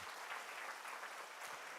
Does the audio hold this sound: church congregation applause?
yes